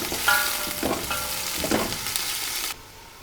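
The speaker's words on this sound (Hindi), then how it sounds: "इसमें हम शामिल करेंगे 2 अदद प्याज। प्याज को हमने गोल्डन कर लेना है।" Two onions sizzle in eight tablespoons of oil for a chicken pulao, frying toward golden with steady crackling and occasional stirring, close and fairly loud, until the sizzle cuts off abruptly near the end.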